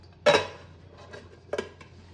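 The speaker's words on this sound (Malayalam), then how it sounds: "ഇത് നമുക്ക് മറ്റൊരു പാത്രത്തിലേക്ക് ഒന്ന് മറിച്ചിടാം." A steamed kinnathappam is tipped out of its pan into another vessel, giving a sharp metallic clatter, then quieter knocks and a second clank about a second later.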